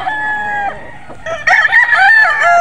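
A six-month-old Boston Gilmore three-way cross gamefowl rooster crows loudly and close, one drawn-out call followed by a second rising, raspy crow, with no talk.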